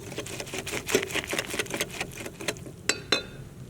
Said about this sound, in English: Next you take your whisk and whisk it all up until it's smooth